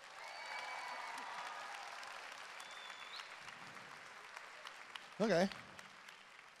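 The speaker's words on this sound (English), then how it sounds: "let's give us a round of applause" An audience at a Catholic youth conference in Austin applauds steadily for about five seconds at moderate volume; the applause then fades and a single voice speaks briefly.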